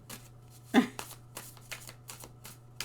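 A deck of playing cards cut and handled up close, one sharper snap followed by a string of soft, brisk card flicks over a faint steady hum.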